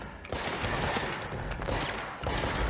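Gunfire in the video game Control: rapid, loud bursts of shots in two long volleys separated by a brief pause, with no one speaking.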